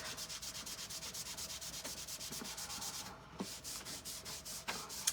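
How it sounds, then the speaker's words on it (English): A cloth buffs wax off a small wooden gift in quick, even rubbing strokes, close up and continuous, with a slight hitch midway. "I'm going to buff this off."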